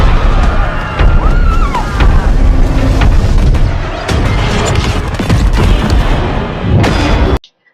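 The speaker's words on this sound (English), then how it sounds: "Mechagodzilla also disperses some missiles which hits Godzilla but doesn't seem to slow him down much." Missile strikes and explosions hitting Godzilla in a Mechagodzilla battle scene: dense, continuous booms and crashing blasts at full loudness, layered with rumbling impacts that cut off abruptly at the end.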